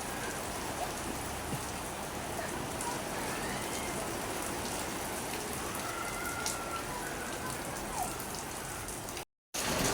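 Steady, heavy downpour in Hyderabad fills the whole stretch with a thick, even roar of falling drops, briefly cutting out near the end.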